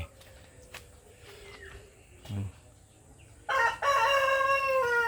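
A light Brahma rooster crows loudly near the end, a long ringing call following quieter clucks and bird chatter from the flock of Brahma chickens.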